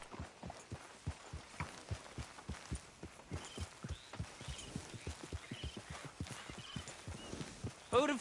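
Horse walking in the Red Dead Redemption video game, its hooves clip-clopping in a steady, even rhythm throughout, moderately close with a soft ambient bed behind.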